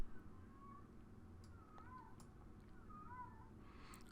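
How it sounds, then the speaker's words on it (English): Cats yowling outside, faint wavering meows and caterwauls rising and falling a few times over a low background hum. "I hear cats going nuts outside."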